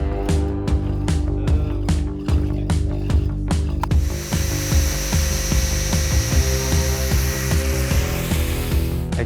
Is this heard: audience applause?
no